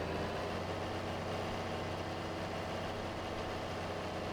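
A John Deere 2280 mowing tractor in Farming Simulator 22, its engine idling with a steady, faint low hum and drone that stays even throughout, with no voices.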